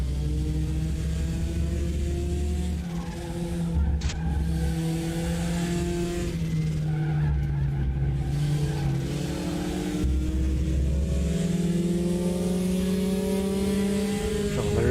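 Porsche race car in the RaceRoom racing game, its engine revving loud and continuous with rising and falling pitch through gear changes and an early downshift, with occasional tire noise.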